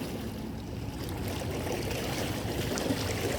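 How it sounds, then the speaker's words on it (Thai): Riverside ambience along the Chao Phraya River with boats: a constant low rumble of engines and lapping water, moderately quiet and steady with no clear events standing out. "บรรยากาศเย็นๆ ริมแม่น้ำเจ้าพยา ดูเรือ ดูแม่น้ำดูสะพานไป"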